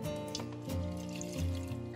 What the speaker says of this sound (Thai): หนูก็จะใช้น้ำเนาะล้างโถปั่นค่ะ